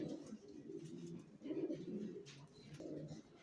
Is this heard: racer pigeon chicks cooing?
yes